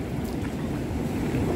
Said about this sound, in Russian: Такой сильный ветер.